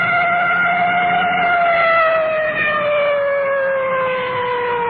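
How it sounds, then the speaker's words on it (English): A loud wailing police car siren sweeps steadily in pitch, continuous and close, passing through traffic toward a large intersection. "Coming up to a large intersection now, you can hear that full treatment on the siren."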